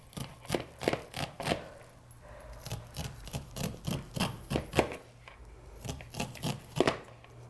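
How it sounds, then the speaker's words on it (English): Knife slicing kernels off fresh ears of corn, a close series of crisp, rhythmic cutting strokes at a steady pace with no talking. "And you're just going to cut that corn off of there."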